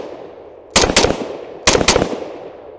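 A Century Arms VZ 2008 rifle, a VZ 58 clone, fires at a range: two loud, sharp reports about a second apart, each with a brief echoing tail, and no voices.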